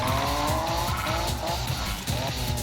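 A race car engine in Need for Speed 2015 revs under a feathered throttle, a loud buzzing drone with rapid pulsing and tire squeal, continuous and close throughout.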